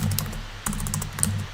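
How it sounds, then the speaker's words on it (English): Rapid bursts of typing on a computer keyboard, close and clear, with clustered key clicks separated by a short pause over a low background hum, no talk. "let me just type and then I'll talk to you guys"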